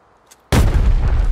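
One sudden, loud grenade explosion in the mobile FPS game Dark Zone Breakout, a sharp blast after near silence followed by a booming rumble that carries on to the end.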